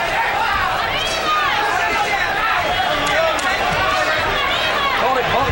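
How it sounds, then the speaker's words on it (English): A big arena crowd of roughly 13,000 at America West Arena for a boxing match, a dense continuous roar of chatter and cheering that fills the space, loud and unbroken. "Big crowd here at the America West Arena."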